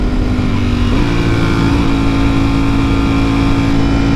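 A V4 superbike roars at close range, loud and steady, its engine pitch lifting slightly as it accelerates hard with no voices over it.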